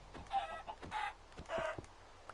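Minecraft chickens clucking in a video game, three short bursts of clucks with brief gaps between them, fairly close and alone without talk.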